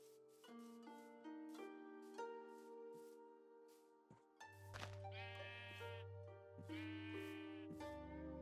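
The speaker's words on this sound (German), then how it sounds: "Mäh, ihr Schafe." Sheep bleating in the video game Minecraft: several distinct digital bleats in a row, clear and fairly loud over a continuous game music backdrop, with no talk.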